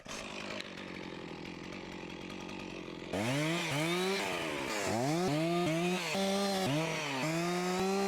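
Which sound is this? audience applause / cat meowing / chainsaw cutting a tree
chainsaw cutting a tree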